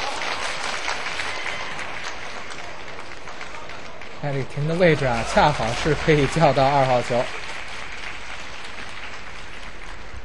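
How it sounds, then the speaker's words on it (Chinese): A crowd claps warmly for Liu Sha at the 2009 Women's World 9-Ball final, a steady wash of applause heard throughout beneath a commentator talking over it. "现场也是对这个刘莎报以热烈的掌声"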